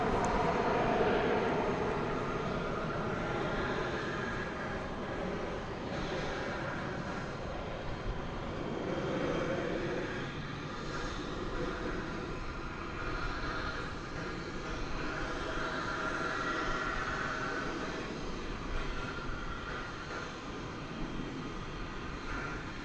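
Airliner engines roar steadily at DFW Airport in Texas, a dense, continuous wash of jet noise with slight swells that persists alone at moderate distance for over twenty seconds.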